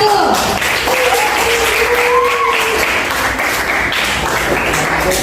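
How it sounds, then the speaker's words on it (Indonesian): Classroom group applause after a presentation: a steady, loud wash of clapping lasting several seconds, with voices talking and calling over it throughout. "Kita kasih aplaus untuk kelompok 1."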